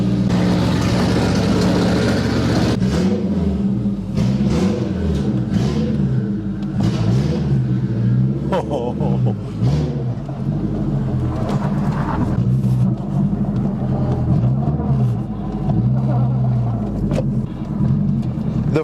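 A turbocharged 8th generation Honda Civic engine runs loud and close, with repeated revs rising and falling in a wavy rhythm over a rough idle.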